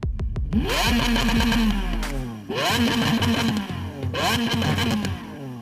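A Lamborghini Aventador SV with its sports exhaust, revved hard three times in a row, each sharp climb and fall loud and close, with no talk over it.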